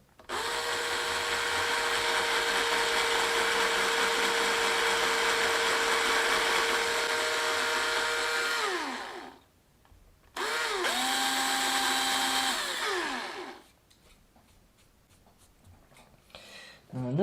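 A power drill whines loudly for several seconds, winds down, then spins up again for a shorter burst before stopping.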